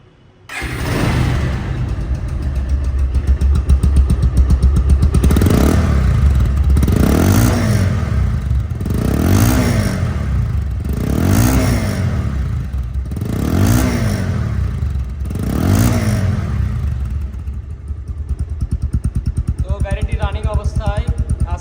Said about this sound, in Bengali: এখন সাউন্ড শুনবো গাড়িটির সাউন্ড কোয়ালিটি শুনলে আপনারা বুঝতে পারবেন যে ইঞ্জিল কোয়ালিটি কেমন আছে